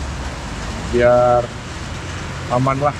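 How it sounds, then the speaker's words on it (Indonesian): Heavy rain falls steadily during a rainy-season motorcycle tour near Purwodadi on a FORT250, a constant hiss beneath two short bursts of speech. "Wih, hujannya semakin lebat."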